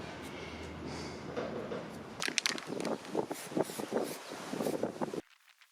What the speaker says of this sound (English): It's so windy out here, it's horrible.